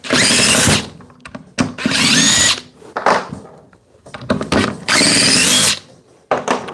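A Dewalt DCF870 impact driver drives screws in three loud, sustained bursts separated by short pauses, with no talking.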